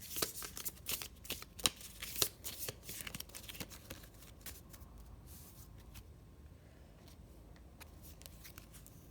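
Tarot cards being shuffled and cut by hand, a quick run of crisp riffles and slaps in the first few seconds, then quieter handling fading off; close and fairly soft, with no talk.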